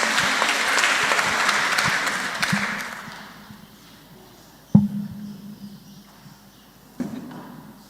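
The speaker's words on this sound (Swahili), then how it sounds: "Wapigeni makofi ili wapate morale." A church congregation at a Kikuyu youth Sunday service claps in a dense, steady round of applause that fades out after about three seconds, followed by a couple of isolated loud knocks in a quiet room.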